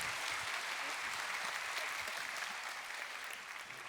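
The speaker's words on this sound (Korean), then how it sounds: "박수로 보내드리도록 하겠습니다" At a university public science lecture, an audience applauds the dean with steady, dense clapping heard from some distance, fairly quiet and gradually thinning toward the end.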